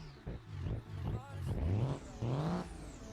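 A Cummins diesel pickup truck engine in the video game BeamNG.drive revs in short bursts, a deep rumbling growl rising and falling, close and fairly loud.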